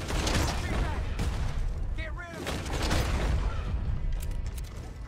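Gunfire in a video game crackles in dense bursts of sharp shots and mechanical clatter, loud and continuous, with a player talking over it.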